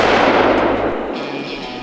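One loud, booming rifle shot fired at a black bear during a hunt, with a long rolling echo decaying through the woods.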